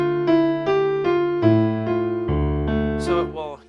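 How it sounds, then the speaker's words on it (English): Keyboard set to a piano sound plays a slow sequence of sustained notes, one roughly every half second. A deeper chord joins near the end before a brief noise and fade, all close and clear, with no talking. "I'm just going to do a piano sound so it's like this."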